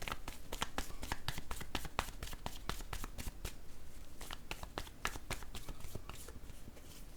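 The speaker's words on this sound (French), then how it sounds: "Je vais déposer une carte sur" Tarot cards are handled and laid down on a table during a reading, giving a rapid run of crisp close card snaps and slaps, fairly quiet throughout.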